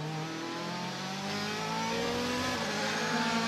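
DTM race car accelerating hard through turn 2 at the Budapest circuit, engine note climbing steadily in pitch and growing louder as it pulls out of the corner, loud and continuous with no talk.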